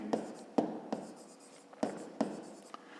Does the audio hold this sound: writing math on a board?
yes